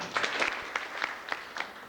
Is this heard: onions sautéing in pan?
no